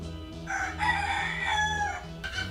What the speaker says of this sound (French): bonjour le coq.